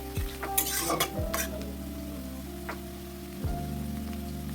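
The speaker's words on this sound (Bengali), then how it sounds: "পেঁয়াজটা দিয়ে হালকা করে একটু নাড়াচাড়া করে নিতে হবে।" Chopped onions added to garlic and ginger, sizzling in a pan for egg fried rice and stirred with a few scraping strokes over a steady fry hiss, close and moderately loud, no talking.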